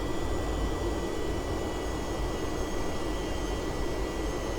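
Jet engines of an Avro Vulcan flying at low level around 500 feet, throttled back toward 70% RPM, give a constant loud broadband roar with faint steady whine tones and no talk.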